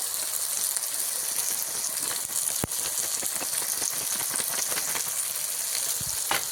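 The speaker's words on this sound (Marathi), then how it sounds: "मंद आचेवर चांगला परतूया तेल सुटेपर्यंत" Khegat vegetable sautéing in oil over a low flame, a continuous close sizzle and crackle with scattered pops and a brief sharp tap, steady in loudness throughout.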